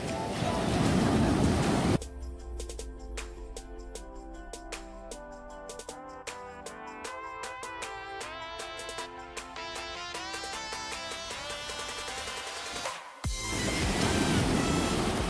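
Sea waves wash onto the beach at West Bay, England, with a loud surf rush at the start and again at the end, separated by a long stretch of music.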